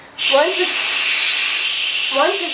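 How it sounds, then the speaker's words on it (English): Instant Pot pressure cooker venting after cooking beef tips, giving a sudden loud, close, continuous steam hiss that holds steady, with a voice speaking briefly over it near the start and again near the end. "Alright, now it's time to depressurize this yourself."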